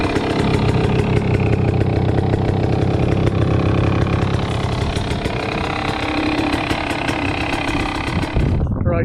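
A dirt bike fitted with a Dunlop EN91EX tire runs on a track, its engine buzzing loud and constant with a busy, throbbing drone close up, ending in a sudden drop.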